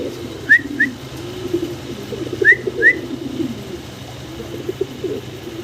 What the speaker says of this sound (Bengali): হায়দ্রাবাদি নীলা কবুতর